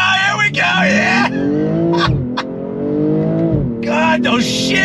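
A 2022 BMW M240i accelerates hard, its engine pitch climbing then dropping sharply at each gear shift, loud and close, with a person's voice talking over the run.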